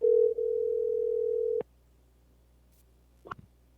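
A steady telephone dial tone hums for about a second and a half while a call is placed, then cuts off abruptly, followed by silence and a brief faint click.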